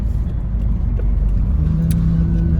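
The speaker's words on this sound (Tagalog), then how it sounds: "grabe ang traffic" Steady low rumble of car engines in slow road traffic, with a continuous hum and the occasional whir of a passing vehicle, heard close and alone.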